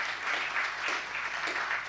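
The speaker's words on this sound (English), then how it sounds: "A big round of applause, please" An audience at a Palmerston North mayoral candidates' debate gives a steady, dense round of applause, continuous clapping that fills the whole short stretch.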